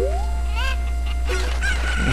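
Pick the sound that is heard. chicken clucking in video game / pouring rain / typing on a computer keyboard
chicken clucking in video game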